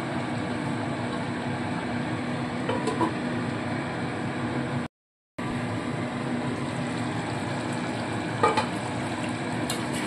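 Chicken do pyaza with yogurt fries in a covered pan, giving off a low, continuous sizzle and hiss with a few faint pops, broken by a short moment of silence midway.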